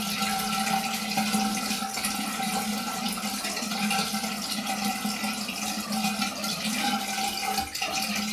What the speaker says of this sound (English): Now I'm just using cold water to close off the pores.